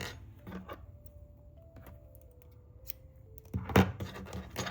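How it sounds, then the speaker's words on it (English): Scissors snipping through crochet yarn at the end of a puff stitch scarf, a few soft close cuts with faint scraping, the loudest cluster near the end of a quiet room. "cut your yarn"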